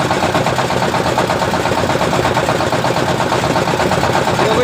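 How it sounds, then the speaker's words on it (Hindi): A pumpset engine runs steadily under load while also inflating a tyre, giving a loud, continuous rapid chugging that stays even throughout, close to the microphone with no talking. "इंजन और इंजन चल रहा है मेरा।"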